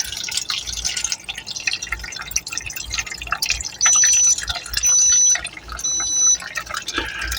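Homemade rice wine drains from its container in a small kitchen, a steady close trickle and drip of liquid with a few brief, even tones sounding over it.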